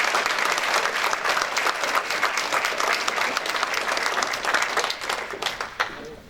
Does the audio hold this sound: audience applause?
yes